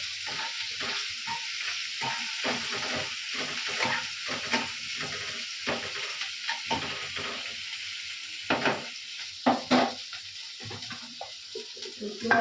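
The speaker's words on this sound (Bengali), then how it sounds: "তো যতক্ষণ আমার পেঁয়াজটা ভাজা ভাজা হোক" Onions sizzle in oil in a pan, a soft, continuous hiss broken by frequent clicks and scrapes from stirring.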